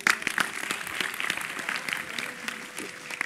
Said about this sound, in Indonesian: Tepuk tangan untuk anak saya.